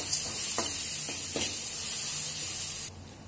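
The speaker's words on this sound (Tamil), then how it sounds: "லேசா வதக்கி விட்டுக்கோங்க" Oil sizzles and hisses steadily in a pan with grated carrot, with a few soft scraping stirs, until the sizzle suddenly drops away near the end.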